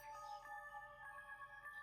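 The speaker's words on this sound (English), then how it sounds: "The ringtone feels ominous." A phone ringing in a horror video game, a faint, high electronic ringtone with a repeating tonal pattern over quiet background.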